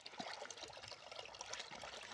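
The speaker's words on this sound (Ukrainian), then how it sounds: "Вливаємо сюди і бутилку біостимулятора" A bottle of liquid biostimulant is poured into a tank of water for feeding cauliflower, making a faint, continuous trickling splash for about two seconds.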